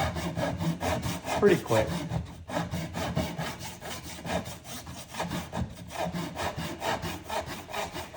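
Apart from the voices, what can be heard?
hand saw cutting a fret slot in wood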